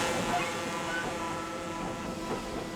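A train hauling a restored 1864 holiday carriage rumbles along the railway with a steady, moderately loud rolling roar and faint rhythmic clatter, muffled voices faintly beneath.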